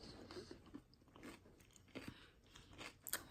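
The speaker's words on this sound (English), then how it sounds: "I don't know if you can hear the crunch of the celery" Crunchy celery in a chickpea salad being chewed close to the mic, with repeated soft crunches and bites in an uneven rhythm over about three seconds, no talking.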